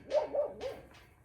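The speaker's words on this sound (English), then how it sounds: "My dog's going crazy out there." Dog barking outside, three quick sharp barks close together, fairly close and clear over a quiet background.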